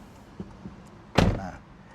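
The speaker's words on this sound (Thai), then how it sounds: "ผม ปิดประตูก่อน" A car door on a 2019 Toyota Camry 2.5G is shut with a single solid thud, close and loud, after a couple of faint taps.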